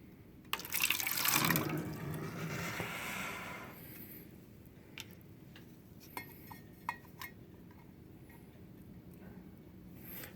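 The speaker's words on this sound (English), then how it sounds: "And you just gently pour some of this water out." Water pours from a betta fish bowl into a container, a loud splashing stream for a couple of seconds, followed by quieter drips and small glassy knocks.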